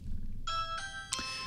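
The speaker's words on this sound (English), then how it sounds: "If somebody rings my doorbell" A Ring Video Doorbell chime plays three quick, bright, bell-like tones in a rising ding-dong pattern, clear and fairly close against a quiet low hum.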